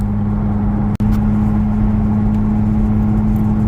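A Lexus IS 250 fitted with an RR Racing carbon intake drones loudly and steadily from inside the cabin as the driver tries to downshift, with a brief dropout near the start and no speech.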